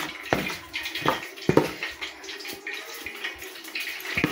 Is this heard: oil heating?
yes